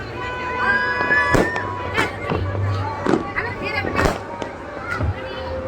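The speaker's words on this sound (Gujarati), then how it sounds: "બધી સાઈડ હવે ફટાકડા ફૂટવા મળ્યા છે" Makar Sankranti firecrackers crack and bang from several directions at irregular intervals, with people talking and a background drone throughout.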